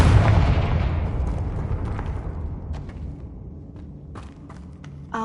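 A Confringo spell goes off in Hogwarts Legacy as a loud booming explosion that rumbles and fades over several seconds, with small crackling debris sounds during the decay.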